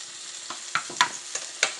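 Yellow pear tomatoes frying with spices in a hot pan, giving a soft steady sizzle broken by several sharp crackles and pops, close and fairly quiet, no voices.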